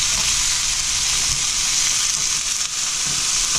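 Frozen vegetables stir-frying in hot oil, a loud continuous hiss and crackle of sizzling that stays steady and close throughout, with faint stirring.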